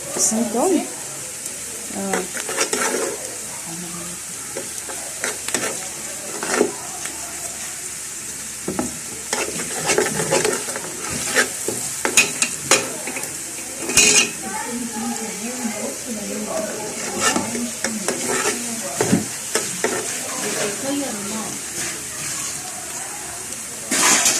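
Oil and chopped onion fry in a pan with a steady crackling sizzle and repeated scrapes of stirring, while a voice talks intermittently over the cooking.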